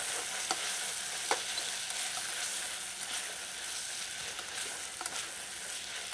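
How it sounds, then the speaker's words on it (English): Leek, chicken and olive pizza topping mixture being stirred together in a bowl, a steady soft scraping and shuffling with a few sharper clicks of the utensil, close and fairly quiet, no voices. "Mix it all together before I add the cheese."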